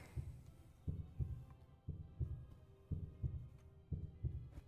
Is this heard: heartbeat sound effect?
yes